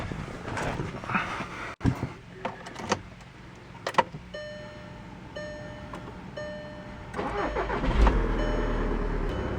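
A Volkswagen GTI's engine is started: a few clicks and thumps give way to the starter's crank and a catch around the eight-second mark, after which the engine idles low and steady nearby.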